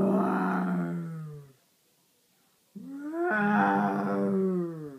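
A person imitates a lion's roar with the voice, two long drawn-out growling roars separated by a short pause, loud and close.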